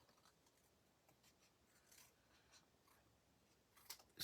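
Scissors snip faintly through decorative designer series paper in a quiet room, cutting it straight across. Soft, scattered crisp cuts and rustles build to a louder final snip at the end.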